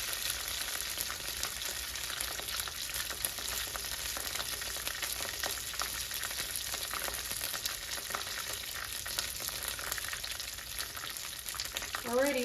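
Egg rolls sizzle in hot frying oil in a home kitchen, a steady crackling hiss that runs unbroken from start to end, with faint clinks and shuffling near the close.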